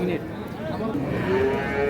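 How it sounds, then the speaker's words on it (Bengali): Sahiwal cattle mooing at a livestock market, a long low drawn-out moo carried over crowd noise. "গরু খুব সুন্দর গরু। কাঁচা গরু ভালো করে দেখো।"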